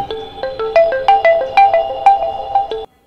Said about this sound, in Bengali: ঠিক 15 মিনিট পর আবার ফোনটা বেজে উঠল।